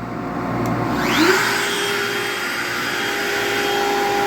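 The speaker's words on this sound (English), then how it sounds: "Dust collection's already on" A workshop dust collection system running alongside a CNC cutting setup: loud, steady close roar of rushing air and motor hum, with a brief rising whine near the start, no speech.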